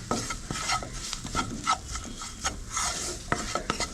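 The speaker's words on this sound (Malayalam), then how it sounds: "ഈ പൊടികളുടെ പച്ചമണം മാറുന്നവരെ നമുക്കൊന്ന് വഴറ്റി കൊടുക്കാം" Chilli powder and other spice powders being sautéed in a pan for a plantain curry, with a spoon scraping and stirring in uneven strokes over a soft sizzle, close up and without talk.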